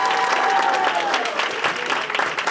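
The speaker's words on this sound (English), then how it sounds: "give another round of applause for Darren Blerd" Audience applause fills a live podcast taping, steady dense clapping from a crowd throughout with no talking.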